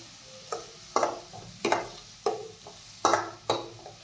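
Chopped onion being sautéed in a pan for chole, with about eight sharp scraping stir strokes at a fairly steady rhythm over a faint, low sizzle, close and moderately loud, with no talking.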